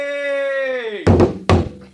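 A dangura drum beaten for a public announcement, with two sharp, close, loud strikes following a sustained sung or called note that fades out.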